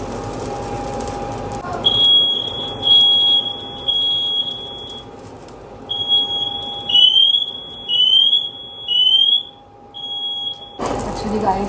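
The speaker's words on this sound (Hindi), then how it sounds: "फायर अलार्म भी चल चुका है" A smoke alarm goes off during cooking in a home kitchen, sounding loud, shrill beeping bursts that repeat in an insistent pulsing pattern before cutting off.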